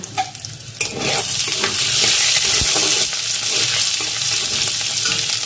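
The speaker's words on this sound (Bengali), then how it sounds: "ফোড়নটা যদি একটু অল্প গরম তেলে দেন তাহলে তেলটাও গরম হবে আর ফোড়নটাও ভাজা হবে" Whole spices tempering in hot oil in a pan for a bottle gourd and prawn dish: loud, continuous close sizzling with a few stirring scrapes near the start and no voices.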